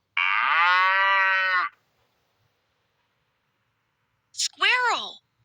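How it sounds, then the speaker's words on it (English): A cow gives a long, loud, steady moo close by, then after a pause a shorter, rising-and-falling lowing call, with no other sound between. "cow,"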